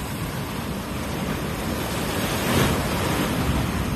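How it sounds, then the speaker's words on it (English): Ocean waves surge and wash onto a shore during fishing, a loud, continuous broadband roar that swells around the middle, mixed with wind buffeting the microphone. "Just as the waves are picking up too"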